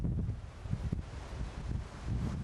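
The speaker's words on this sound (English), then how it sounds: "This wind wasn't so much howling as roaring" Fierce gusts of Storm Floris roaring along Scotland's west coast, a steady rumbling buffet of wind with repeated surges, loud and close against the microphone.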